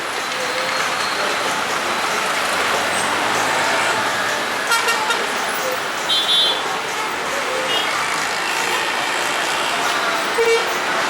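Busy street traffic in Colombo, Sri Lanka hums continuously while car horns toot several times, short and repeated, amid the general road noise.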